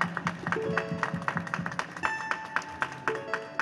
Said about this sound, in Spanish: Un aplauso para ellos, hombre.